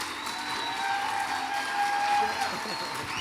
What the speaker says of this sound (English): Could you please clap your hands together for Perry Farrell?